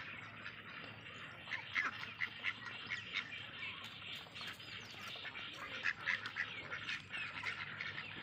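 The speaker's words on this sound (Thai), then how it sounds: "นี่ครับเป็ดปากน้ำครับ" Pak Nam ducks quack repeatedly in short bursts over a constant background hiss, the calls coming in small clusters at moderate distance.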